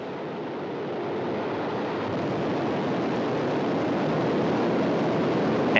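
Soyuz rocket booster igniting at liftoff in Kazakhstan, heard as a distant, steady broadband roar that slowly swells in level.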